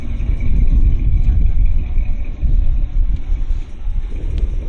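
A 1973 Plymouth Satellite Sebring with a 318 engine and single exhaust runs steadily, giving a loud, continuous low rumble with slight wind buffeting and no speech.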